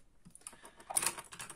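Small craft scissors cutting cardboard, a quick run of crisp snipping clicks over about a second and a half, close and fairly quiet.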